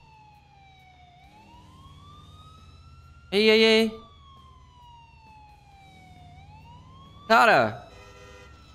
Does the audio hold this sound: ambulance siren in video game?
yes